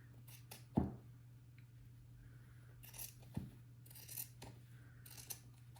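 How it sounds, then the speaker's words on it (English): Scissors cut fabric for a button-up Oxford shirt, giving quiet, close snips and crisp blade closures spaced irregularly over a faint steady hum. "So this one I'm just kind of cutting in between."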